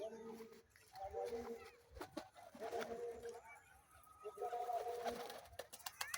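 Trained pigeons coo in repeated low, throaty phrases, fairly close, with a few sharp flutters and clicks between calls as they are released and fly back to the handler.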